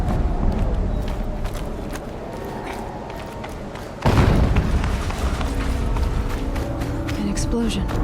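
Explosions go off in the video game Horizon Zero Dawn, with a heavy boom hitting midway through a busy mix of game noise, thuds and movement, while a voice talks over it.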